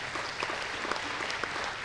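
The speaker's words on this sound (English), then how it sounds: "Let's give it a big round of applause for that." Brief, fairly quiet round of applause from a church congregation, dense overlapping claps with no speech over it.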